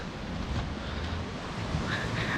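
Sea waves wash onto a quiet beach at Dapoli on the Konkan coast, a steady broadband surf roar with wind buffeting the microphone throughout, no voices.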